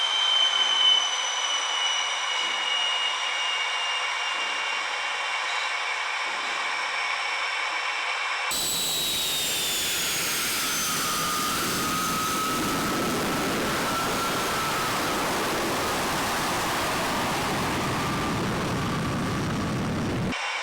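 An L-29 jet taxis, its turbine whine humming steadily at first, then a sudden jump to a loud, broad roar with rising tonal whistle as power comes up, close and continuous.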